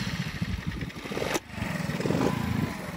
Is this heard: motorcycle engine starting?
yes